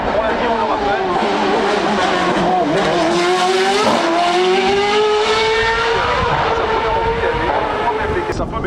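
Wolf race car at the Bagnols Sabrans hill climb, its engine loud and close, revving steadily with rising and falling pitch as it climbs through gears, tyres squealing briefly, with commentary spoken over it throughout.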